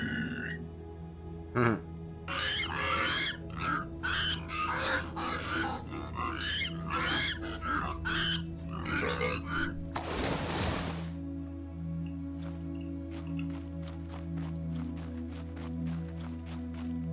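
Pigs in the game I Am Jesus Christ grunt and snuffle in a series of short, rough bursts over a steady low ambient hum, with a bright whooshing swell midway and faint clicks trailing off.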